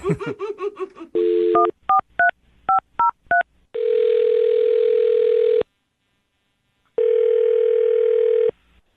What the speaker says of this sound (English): I'll dial her phone number right now and get her on the phone then.